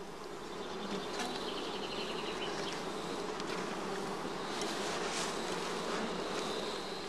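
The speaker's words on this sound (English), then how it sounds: "Sugar solution is readily accepted by the bees." A swarm of honeybees hums continuously nearby at a straw skep, a steady, dense buzzing with individual bees droning past now and then.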